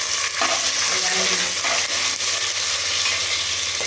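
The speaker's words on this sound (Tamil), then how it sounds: "பட்டை, கிராம்பு, ஏலக்காய் எல்லாம் போடுறேன். வெங்காயம் போடுறேன்." Onions with cinnamon, cloves, cardamom and urad dal frying in a pan for tomato rice, a dense continuous sizzle with scraping stirs close by and no talking.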